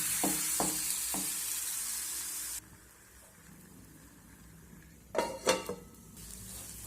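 Shallow frying of a healthy homemade snack in a small amount of oil: a steady hiss for the first few seconds, then quiet, then a few brief clinks and scrapes of a utensil against the pan near the end.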